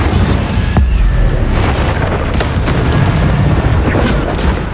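Incendio fire spell cast in a Hogwarts wizarding game, a loud roaring whoosh with an explosive boom at the start, followed by a steady rumbling burst of flame and scattered crackles.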